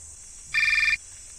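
A telephone rings once in a crime drama, a short electronic trill lasting about half a second, loud against a quiet room.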